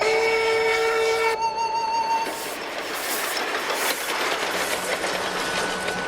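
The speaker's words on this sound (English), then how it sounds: "The QJ's whistle sounds a lonely salute to the thousands of her kind that have ruled over the rails." A Chinese QJ-class steam locomotive's whistle blows a long, steady tone, then cuts off into the rumble and clatter of the passing train.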